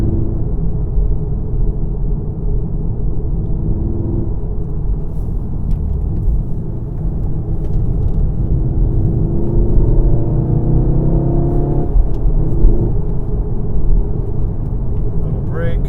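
Manual 2017 VW Golf R with 4Motion driving along a rough, old asphalt road, a steady low road and engine rumble heard from inside the cabin, with shifting engine tones partway through.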